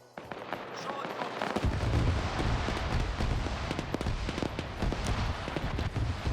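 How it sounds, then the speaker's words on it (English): Rapid video game gunfire crackles continuously, dense bursts of sharp shots echoing without pause. "apparently there's gunshots coming from there"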